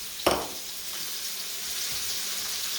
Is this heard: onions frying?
yes